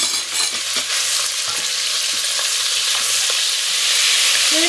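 Smoked bacon lardons frying in hot oil in a pan, giving a steady, close sizzle with light stirring clicks throughout, no talking.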